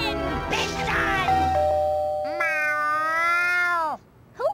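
A cartoon cat gives a loud, drawn-out meow, preceded by a doorbell-like ding and other voices, followed by a brief short sound at the end.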